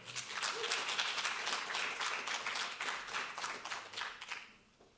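An audience at a welfare-sector knowledge day gives a warm round of applause for a lecturer: a fairly soft, sustained patter of many hands that holds steady, then tapers off near the end.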